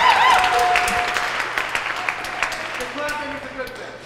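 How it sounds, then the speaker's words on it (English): An audience at an open-stage music night applauds, dense clapping near at first and thinning to scattered claps and a faint whistle, with a low steady hum beneath. "More clapping, that's what I need."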